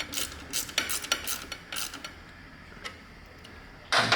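Nuts being tightened during a Danmoto Highwayman exhaust install on a 2017+ Harley-Davidson Touring Milwaukee-Eight produce quick metallic ratcheting clicks in short bursts, close by, before quieter handling noise and a sharper clatter at the end.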